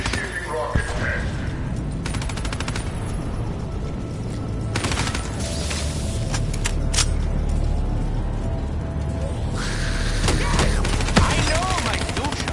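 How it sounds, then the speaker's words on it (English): A rocket test launch in Der Eisendrache, a Black Ops 3 zombies map: loud rattling, clanking machinery and bursts of rapid cracks, with game voices and a narrator speaking over the din. "Initiating rocket test."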